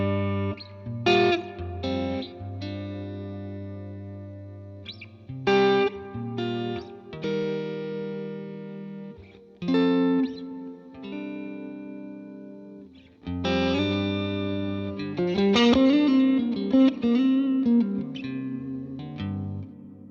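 An electric guitar played through a tremolo effect with reverb added, picking sustained chords and notes in ambient phrases that swell and pulse, ending with a wavering melodic run.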